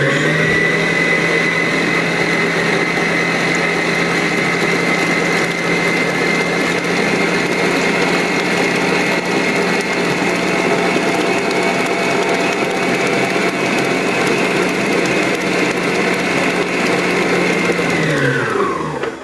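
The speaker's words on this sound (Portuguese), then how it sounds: "Coloco no mínimo da batedeira, né? E vou adicionando aos poucos." Electric mixer running at its lowest speed while beating cake batter, a steady motor whir with a constant tone held for nearly twenty seconds, close and loud, then cutting off at the end.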